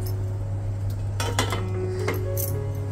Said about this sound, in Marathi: हा, आता याच्यावर झाकण हे ठेवूया आपण.